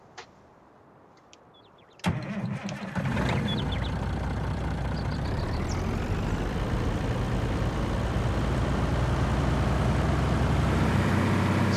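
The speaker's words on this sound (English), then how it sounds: "So the engine sounds great. I love the exhaust coming out of the exhaust stacks." Heavy American-style truck engine in Farming Simulator 19 cranks and fires up after a brief quiet stretch, then settles into a loud, steady diesel rumble through its exhaust stacks, holding constant to the end.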